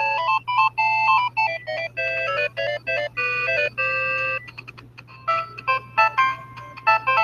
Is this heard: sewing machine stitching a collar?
no